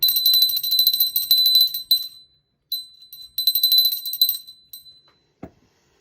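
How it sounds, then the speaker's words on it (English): A bell rung to call for spiritual guidance gives bright, sustained ringing tones in two bursts with a pause between, each fading out, then a soft thump near the end; no talking. "now we're going to ring the bell to let them know we're ready for the spiritual guidance"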